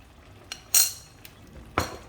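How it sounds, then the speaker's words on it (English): A metal utensil clinks against a pan while chili flakes are stirred into chicken with preserved Chinese mustard greens (zha cai): a few sharp, scattered clinks, close and fairly faint, with quiet gaps between them. "So let's just stir in the chili flakes."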